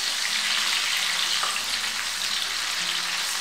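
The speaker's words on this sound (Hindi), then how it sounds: "प्याज डालूंगी। इसे हल्का फ्राई करूंगी" Onion frying lightly in a pan on a high gas flame, with a steady, loud hiss and sizzle that continues without a break throughout.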